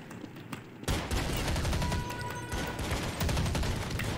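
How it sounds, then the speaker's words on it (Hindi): Rapid bursts of gunfire from a gun in Counter-Strike 1.6 on a snow map, loud and continuous after a brief quiet start, with dense overlapping shots. "ये वाली गन उड़ाते हैं।"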